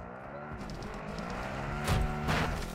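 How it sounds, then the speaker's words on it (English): A car engine revs and roars close by in the video game Warzone, with a couple of sharp impact thuds near the end as the vehicle strikes a player. "Someone just got hit by a car."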